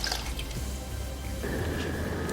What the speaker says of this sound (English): The water from the blender goes in as well.